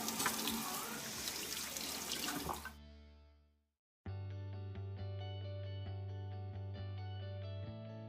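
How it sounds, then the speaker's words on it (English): Tap water runs into a sink as potatoes are scrubbed clean of dirt, a steady broadband wash for about three seconds, then a brief silence before a sustained tonal hum with faint rhythmic ticks takes over. "Wash your potatoes and get all the dirt and mud off of them."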